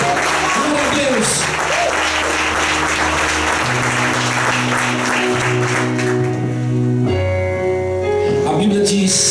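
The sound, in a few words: congregation applauding in church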